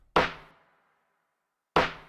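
Two layered lo-fi snare drum samples strike together twice. Each crisp hit decays quickly, separated by about a second and a half of silence.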